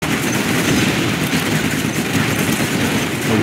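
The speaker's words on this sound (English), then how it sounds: "Quad cannon." Quad cannon fire in Command & Conquer Generals comes as a loud, steady, unbroken stream of rapid shots that fills the whole moment.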